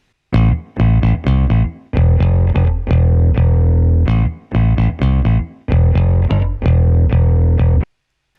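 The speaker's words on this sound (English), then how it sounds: "Here's the bass loop with no filter on." A dry, unprocessed bass loop plays loud and clean, a funky riff of short punchy notes grouped in bursts with brief gaps, running about eight seconds before stopping.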